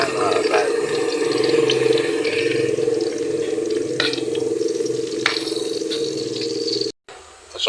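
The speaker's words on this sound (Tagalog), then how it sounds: "pagkatapos na medyo mamula-mula na yung ating bawang, ilalagay naman natin ang ating sibuyas" Chopped onion goes into garlic sautéing in pork fat, and a steady hiss of frying holds over a constant low hum before cutting out briefly near the end.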